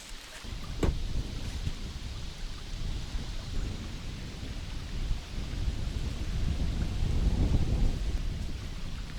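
Steady, heavy downpour at a fishing spot with a dense wash of rain noise throughout, swelling slightly toward the end, with a few faint knocks near the start.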